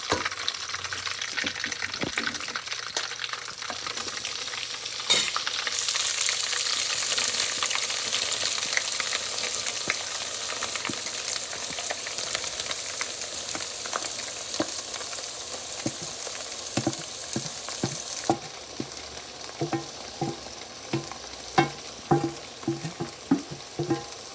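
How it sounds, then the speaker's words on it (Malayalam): Coconut roasting in a pan for Kannur-style kuttu curry gives a continuous loud sizzle, while a spatula scrapes and knocks against the pan at irregular intervals that grow sharper toward the end, with no speech. "ഇനിയിപ്പോൾ ഈ സമയം നമുക്ക് നമ്മുടെ തേങ്ങയുടെ ഇതിൻ്റെ അകത്തോട്ട് തന്നെ ഇട്ട് കൊടുക്കാം വറക്കാൻ വേണ്ടിയിട്ട് കേട്ടോ."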